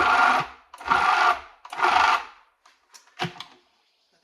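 A food processor pulses lemon drizzle cake batter in three short bursts of whirring, each about half a second with brief gaps, followed by a few quieter clunks and knocks.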